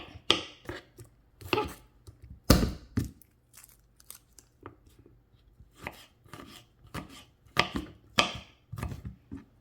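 Garlic is crushed and then chopped small on a board with a knife, giving irregular sharp knocks in bursts separated by brief pauses, close and clear with no talk.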